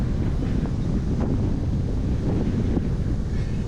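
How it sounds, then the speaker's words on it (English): Wind blows across the Flinders Ranges outback near Arkaroola, a continuous low rushing buffet on the microphone with gentle swells and no voices. "You can see even through here that wind that was present back at the Arkaroola Waterholes coming through"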